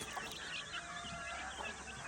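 Chickens clucking softly in a coop with round separate cages and chicks, a steady low chorus of clucks and murmurs without speech.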